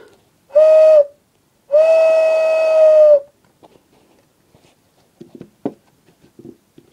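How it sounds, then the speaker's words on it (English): Two blasts from a toy Thomas the Tank Engine train whistle, a short toot then a longer steady tone, loud and clear, followed by faint clicks and handling noises. "And just to prove what these whistles sound like,"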